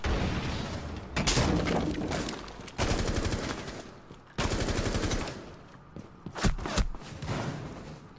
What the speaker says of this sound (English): Definitely nice shots there onto Swift, but he gets traded back there with a nice down.